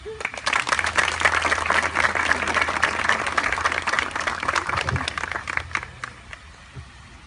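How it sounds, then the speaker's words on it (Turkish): Wedding guests break into applause right after the couple's vows, a dense stretch of many hands clapping that holds steady for several seconds, then thins and fades toward the end. "Alkış."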